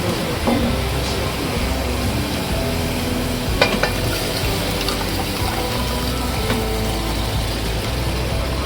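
Cooked dal for a Malvani-style sweet Kokani dal hits a hot pan, a dense, continuous sizzle and bubbling with a few light clinks of stirring throughout.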